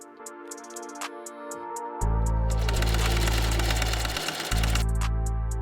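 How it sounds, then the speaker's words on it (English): An electric sewing machine stitching cut-off jeans into shorts, heard close up. After quiet mechanical ticking, the motor kicks in with a loud, steady buzzing hum, pauses for a moment, then starts running again. "I just finished sewing everything"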